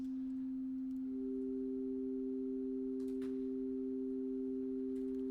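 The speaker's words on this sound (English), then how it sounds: "two notes that are going to become two sine waves that are then going to get mixed together and are going to come out the center" Two steady pure sine tones from a Punctual live-coding patch, mixed and centred; one note sounds alone at first, then a second joins after about a second and both hold evenly to the end.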